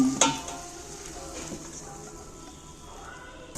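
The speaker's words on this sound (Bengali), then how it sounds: "আমি আবারও মাংসটা ঢেলে নিচ্ছি" Chicken meat poured back into a pan of hot oil lands with a sharp clatter, then settles into a faint, steady frying sizzle with a few light stirring knocks.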